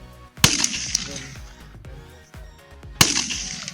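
Rifle shots fired while hunting a common eland outdoors, two loud sharp cracks about two and a half seconds apart with echoing tails and a faint voice between.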